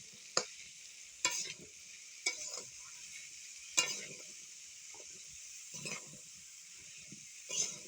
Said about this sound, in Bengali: কড়াইতে দেখো ভালো করে খুন্তি দিয়ে আমি নেড়ে চেড়ে নিচ্ছি